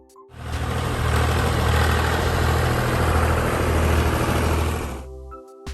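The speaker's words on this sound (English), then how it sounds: "The neat, steady engine sound echoed in the early morning." A diesel tractor engine starts up and runs with a steady, low rumble for several seconds before cutting off, close and loud, no voices.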